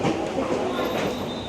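A Toronto subway train rides through a tunnel with a dense, steady rumble and rattling wheel noise, a constant close roar with a faint high whine running through it, no talking.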